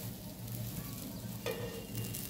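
Ragi (nachni) ghavne batter sizzling on a hot griddle, a steady close hiss with light stirring or scraping touches, no talking.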